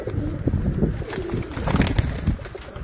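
Pigeons coo in soft, throaty repeated calls against a low rumbling background, several birds overlapping nearby.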